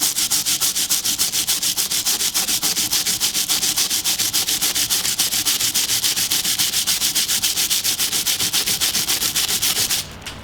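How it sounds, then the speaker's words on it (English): A clean brush scrubs soft grout without hardener in a steady, fast back-and-forth rhythm. The scratchy rubbing is loud and close and stops abruptly near the end. "So that's a scrub."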